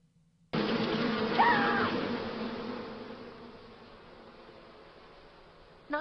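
Bees buzz in a Smallville TV scene, a dense, sustained swarm drone that starts abruptly, peaks early and slowly fades before cutting off.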